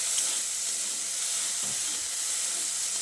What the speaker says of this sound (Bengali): আলুগুলোকে দিয়ে তেলের সঙ্গে এভাবে একটু নেড়ে চেড়ে মিশিয়ে নিচ্ছি